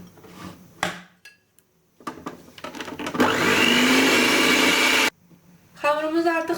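Electric hand mixer whirring loudly and steadily through cake batter for a Snickers cake, with clinks and handling noises before it starts and a brief pause before it restarts.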